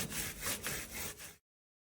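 Rhythmic back-and-forth rubbing strokes as a rag scrubs a motorcycle chain sprayed with brake cleaner, about five quick passes before it stops abruptly.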